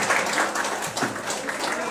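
Audience clapping at the opening of a Nahdlatul Ulama (MWCNU) conference in Bawean, a moderate, steady patter of many hands, slightly distant and sustained throughout the short stretch.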